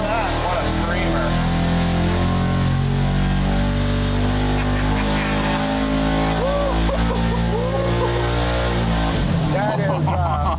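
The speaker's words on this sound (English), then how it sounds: "Sounds like a real engine right there." A 305 small-block Chevy V8 on a dyno holds a loud, steady roar, revving up and down with rising and falling tones throughout, while a voice speaks briefly over it.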